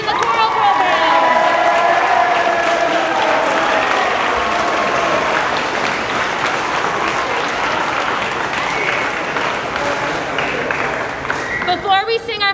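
An audience at a high school mixed chorus spring concert and senior sendoff applauds the choral seniors, with sustained crowd clapping at full strength that slowly thins toward the end, mixed with some voices in the room.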